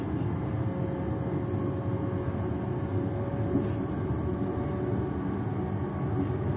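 Interior of a train running toward Glasgow Central High Level, a steady low rumble that holds at an even level throughout with no speech over it.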